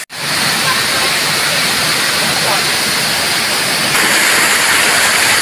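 Bayaoas Mini Falls in Aguilar, Pangasinan, Philippines roars up close with a loud, steady, continuous rush of falling water.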